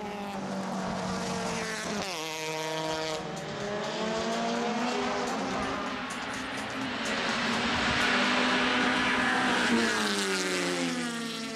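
Race cars, including a Ford Puma, run on the Veliko Tarnovo circuit, engines revving loudly with rising and falling pitch through gear changes as cars pass close, one engine note overlapping another.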